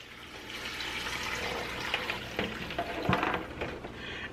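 Liquid for homemade turkey stock is poured into a pot, giving a continuous splashing, gurgling stream with a few louder sloshes, close by and without speech.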